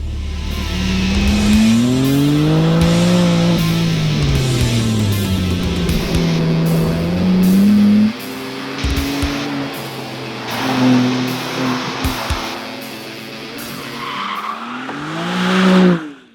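A BMW M4 Competition laps a fast race track, its engine rising and falling through gears as the tires squeal and skid through corners, loud and close, ending in a hard rev.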